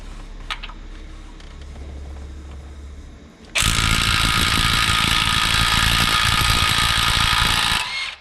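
A rapid, loud rattling burst from an impact gun working the bolt on an LS3 cam gear cuts in at about 3.5 seconds after a quiet stretch and runs steadily for around four seconds before stopping.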